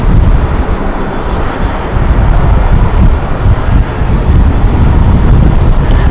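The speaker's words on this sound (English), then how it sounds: "Glasgow flight next. Inbound." An aircraft inbound on a flight from Glasgow arrives at London City Airport with a loud, close engine rumble and roar, buffeted by wind noise on the microphone, and no voices.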